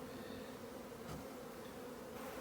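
Honey bees in a hive built inside a flat roof give off a continuous, even buzzing drone, faint and steady with no breaks, alone without voices.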